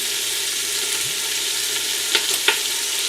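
Onions frying in olive oil in a pan over medium heat, a steady broadband sizzle throughout with two brief sharper clinks or scrapes near the end, no voices.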